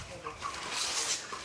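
Chickens cluck and chatter throughout a giant industrial poultry house, a dense, continuous flock din with scattered higher calls rising over the crowd noise, moderately loud and without speech.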